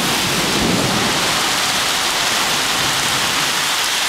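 Heavy rain pours steadily at a hiking campsite during a thunderstorm, a dense, loud, continuous wash with a low rumble of thunder near the start.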